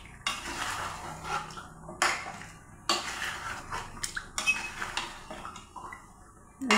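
A metal spoon stirs fried chicken with spices in a pan, scraping and clinking in irregular strokes close by, with soft sizzling in between.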